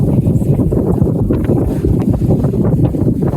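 Strong, steady wind buffets the microphone in a continuous roaring rush aboard a sailboat on the Baltic between Estonia and Latvia, with faint water and boat sounds underneath.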